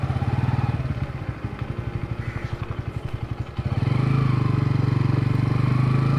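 Bajaj Pulsar N150 single-cylinder motorcycle labouring at low rpm in third gear, a close, rapid, evenly pulsing engine thrum that clatters slightly before rising into a louder, smoother drone as it picks up.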